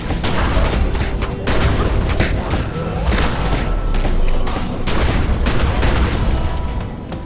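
Rapid, continuous gunfire and booming shots in The Secret World, a zombie-plague game set in Kingsmouth Town, loud and dense throughout with overlapping bursts and no pauses.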